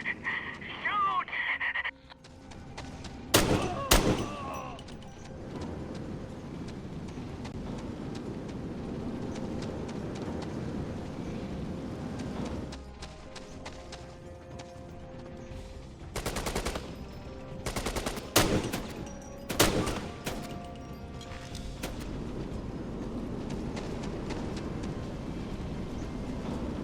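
Gunfire in Syphon Filter: The Omega Strain during a Yemen mission, with sharp bursts of shots and rapid volleys scattered across a busy game soundscape, some loud and close, alongside background noise.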